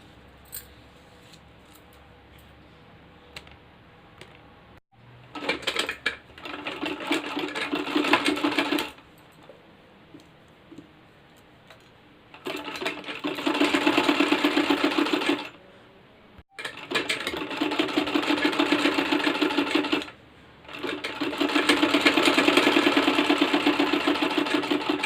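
A sewing machine stitching fabric runs in four steady bursts of several seconds each, separated by short pauses. It is loud and close, with a faint hum audible in the gaps.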